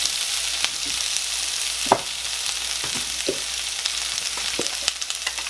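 Onions and peppers sizzle steadily in a pan, a continuous bright frying hiss with occasional soft pops and clicks, heard alone without talk.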